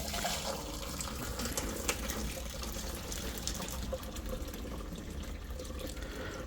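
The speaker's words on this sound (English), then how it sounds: "So we're gonna go ahead and drain this out." Pasta water pours out through a clip-on pot strainer, a continuous splashing rush into a sink that runs steadily from start to finish, moderately quiet and without any voices.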